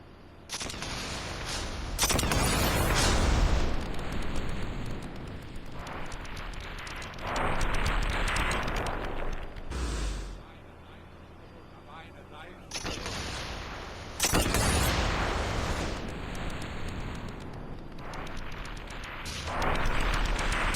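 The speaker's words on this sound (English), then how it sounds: "the 3D audio, explosions, gunfire, shell casings dropping all around you" Explosions and gunfire from the Sniper Elite VR video game on PlayStation VR, loud bursts of shots and blasts in several dense waves with brief lulls between them.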